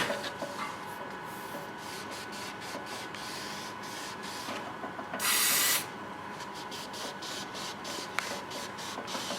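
Cloth wiping along the cutting strip of an Intec SC5000 digital sheet cutter, a steady close rubbing hiss with rhythmic strokes and one brief burst of spray partway through.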